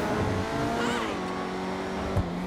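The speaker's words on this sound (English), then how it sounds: "You can definitely hear the turbo more." Upgraded turbocharged supercar engine revving in GTA Online, loud and close with continuous roar and pitch shifts as it accelerates, tire noise mixed in.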